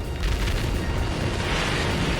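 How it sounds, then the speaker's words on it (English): Heavy cannon fire from an anti-freighter cannon in the space game No Man's Sky, a dense, sustained booming roar of explosive blasts that fills the whole stretch loudly, with no talking over it. "Anti-freighter cannon."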